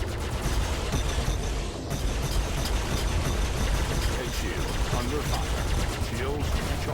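Spaceship guns fire in a squad dogfight in the video game Star Citizen. Rapid, sustained weapon fire runs dense and continuous over a constant engine roar, with someone talking over it.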